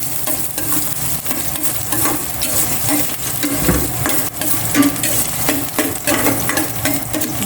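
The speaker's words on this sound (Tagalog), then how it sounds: "gisa ko na itong bawang" Garlic sautés in a pan for pork adobo, a continuous close crackling sizzle with scattered pops and soft stirring scrapes, steady and loud with no voices.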